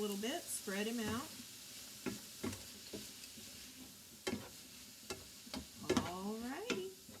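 Meat sizzling steadily in a hot pan while a spoon scrapes and stirs it in short strokes, fairly quiet and close, a voice speaking briefly between stirs.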